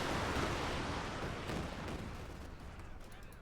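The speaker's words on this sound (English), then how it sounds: "Almost took out a field gun there with the Panzerwerfer barrage" Rumbling rocket barrage from a Panzerwerfer in the war strategy game Company of Heroes 2, a dense run of overlapping blasts and crackling impacts that roll on loudly before thinning out over a few seconds.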